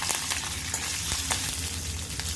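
Curry leaves and asafoetida sizzle in hot oil for a tempering, a dense, steady close-up crackle with small spitting pops throughout and no talking.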